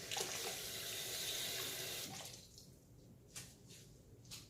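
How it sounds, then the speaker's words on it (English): Hands splash and wash in dishwater in a kitchen sink, a dense running-water rush that fades after two seconds into a few soft sloshes and drips, close and without speech. "I'm going to wash my hands in this dishwater."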